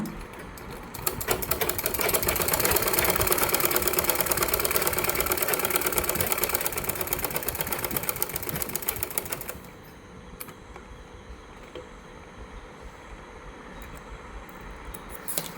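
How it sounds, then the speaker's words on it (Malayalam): Close, steady whir and rapid ticking of a sewing machine stitching the crotch seam of a child's cloth bottom, running for about nine seconds before stopping to a quieter background with faint clicks. "കോച്ച് ഭാഗം സ്റ്റിച്ച് ചെയ്തെടുക്കുക"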